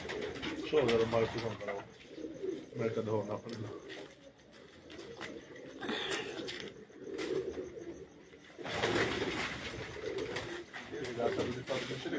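Pigeons coo on a rooftop in Punjab, their soft repeated calls rising under someone talking nearly throughout.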